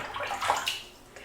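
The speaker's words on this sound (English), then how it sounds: "apparently I'm not too scared to put the mic next to water" Water sloshing and splashing in a bathtub during leg shaving, soft close splashes with a gentle gurgle, picked up by a microphone set near the water.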